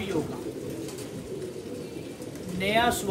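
Heeno pigeons give soft, low cooing calls in a quiet space, faint and somewhat distant, with a brief voice or chirp near the end.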